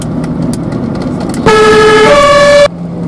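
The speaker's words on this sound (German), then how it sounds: "mach doch mal die Sirene an" A fire engine siren at a fire brigade open day switches on abruptly after ambient background, sounding a loud, steady multi-tone horn-like wail for about a second before cutting off sharply.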